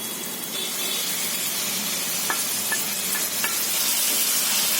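Minced meat (keema) frying in a pan after ginger and garlic, a steady close sizzle with a few light clicks of a spoon against the pan, no talking.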